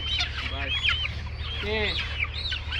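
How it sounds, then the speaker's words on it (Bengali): Young pullet hens cluck and chirp repeatedly at a poultry farm, the calls overlapping at close range over a steady low machinery hum. "আমরা এখানে পুলেট নিতে আসলাম"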